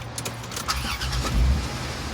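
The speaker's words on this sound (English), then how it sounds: "Probably better to have the engine running anyways so that we get the proper voltage." A van engine cranks over and settles into a steady low idle close by, with a faint jingle of keys at the start.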